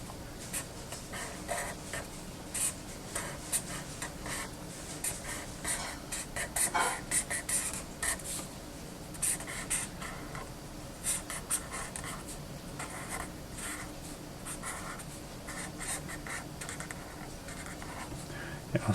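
A pen traces the outlines of graffiti letters on paper, a close, continuous scratchy writing sound made of short repeated strokes that runs steadily throughout.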